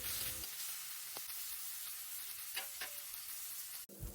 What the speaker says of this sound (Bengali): এখানে আমি নুন দিয়ে আমটা ভাজে নিয়েছি